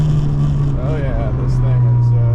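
Turbocharged Honda Civic Si, a tenth-generation model, pulls under acceleration with a steady, loud engine drone and faint rising turbo whistle tones running throughout, without pauses.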